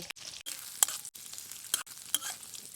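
Onions frying in oil in a wok-like pan over a wood-fired clay stove, a steady close sizzle broken by short stirring scrapes and brief pauses.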